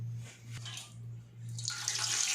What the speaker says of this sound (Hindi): अभी इस पतीले में हमने वही पानी ऐड